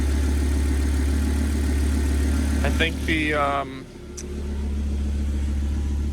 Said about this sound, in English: Seems to be running now and idling.